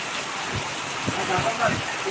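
Heavy rain pours over Balaji Nagar in Hyderabad as a steady, close wash of hiss with a few faint voices murmuring underneath.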